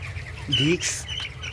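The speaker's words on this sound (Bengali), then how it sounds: "এই দেখুন বন্ধুরা, তো আমার মুরগি প্রায় এত বড় হয়ে গেছে" Broiler chickens in a poultry shed give a short, close squawk and clucking call, heard briefly over low background noise.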